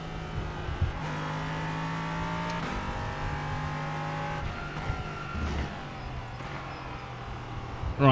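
An LMP3 race car engine revs and shifts through gears, rising and dropping in pitch with sharp changes, fairly close and steady throughout, without talking.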